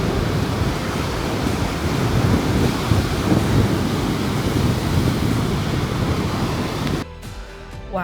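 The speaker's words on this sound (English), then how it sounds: "this is the North Sea, if anybody's wondering" Waves break and wash continuously on the North Sea shore under gusting wind that buffets the microphone, loud and close, before the noise briefly drops near the end.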